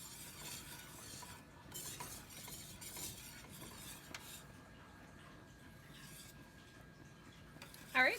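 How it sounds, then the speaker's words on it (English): A mixture being whisked in a bowl while cooking autumn treats, a steady soft scraping and stirring texture that carries on throughout, fairly quiet with no talking. "You just want to whisk it till it's combined and into the consistency you'd like it."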